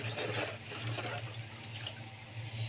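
Water pours and splashes into a jar packed with salted lemons, a close, continuous trickling stream at low volume.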